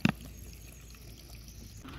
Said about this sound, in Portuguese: E agora vamos soltar essa água suja.